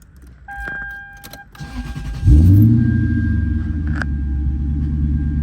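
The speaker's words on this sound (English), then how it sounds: "now when you actually turn on the car," A Lexus LS430 engine cranks and catches, then settles into a steady low rumble; beeps and faint jingling come before it, and a click sounds after it starts.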